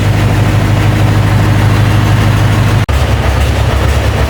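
A Scania 143 truck engine runs with the PTO engaged, a loud, steady, low diesel drone throughout, broken by a single very brief dropout near the end.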